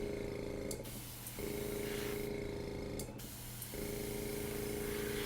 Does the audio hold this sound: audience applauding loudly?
no